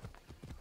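Horse hooves clopping in the video game Assassin's Creed Odyssey, a short burst of several close, rhythmic low thuds as the mount tries to climb a slope.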